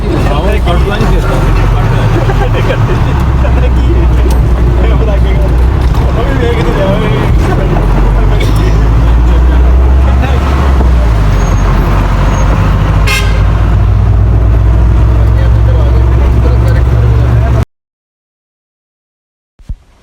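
A car drives on a motorway near Raiwind, Lahore, with a steady, loud road rumble and traffic noise from inside the vehicle. A horn toots once or twice, then the sound stops abruptly.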